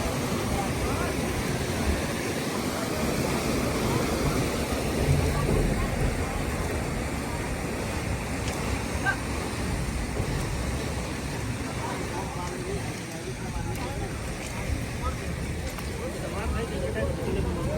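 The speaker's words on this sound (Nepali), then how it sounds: "यो पानीको साउन्ड सुन्दै गर्नुहुन्छ साथीहरू" Rushing floodwater during a flood, pouring close by beside an embankment as a steady, loud, broadband roar with no let-up throughout.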